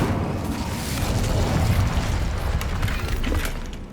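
Incendio fire spell cast in Hogwarts Legacy, a roaring, rumbling burst of flame with crackling, sustained for a few seconds without talk.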